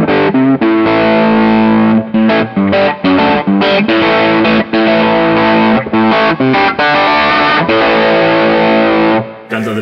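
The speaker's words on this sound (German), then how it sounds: "das wäre zum Beispiel jetzt ein handelsüblicher Marshall-ähnlicher Sound" An electric guitar through a typical Marshall-like distorted amp tone plays choppy, rhythmic chords with short gaps between them, loud and close, ending abruptly.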